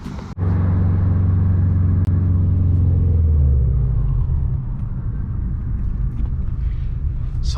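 A car drives along a road on the way to a Florida pop-up car meet, its engine a steady low rumble heard from inside, close and continuous without any talk.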